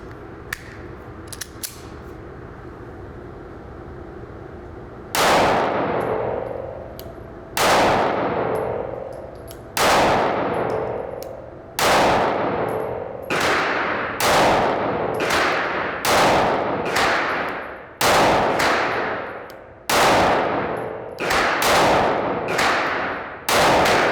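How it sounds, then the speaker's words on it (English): A Sig Sauer P365 SAS 9mm micro-compact pistol fires MagTech 115-grain full metal jacket rounds outdoors: a string of about a dozen sharp, loud reports, evenly spaced roughly a second or two apart, each trailing a short echo, after a few quiet seconds. "We're going to run the first mag through the pistol."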